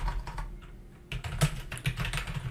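Typing on a computer keyboard during a word-processing lesson at a computer academy: a quick, uneven run of close, crisp key clicks with a brief pause partway through, no voices.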